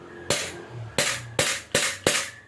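A KWC Glock 18C gas blowback airsoft pistol with a plastic slide is dry-fired on semi-auto without BBs, giving five sharp, close cracks at slightly uneven intervals, each with a brief gassy tail.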